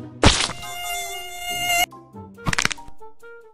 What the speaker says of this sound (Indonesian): Ada nyamuk di jidatmu.